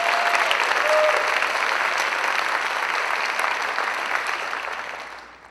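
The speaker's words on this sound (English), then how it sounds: "how about an applause for those students out there?" An audience at the Polk Academies Ford NGL designation event applauds the students, a loud, dense wash of clapping that holds steady and then tapers off near the end.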